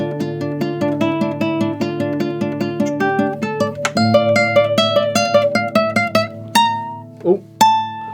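An acoustic guitar in standard tuning plays the opening line of the Helldivers 2 main theme as a steady run of plucked single notes and chords, close and clear with no talking.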